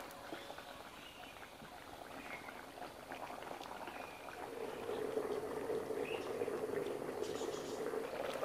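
Potatoes simmering in a pot of spiced water for aloo dum, a steady soft bubbling that grows slightly louder and fuller partway through, with no talking.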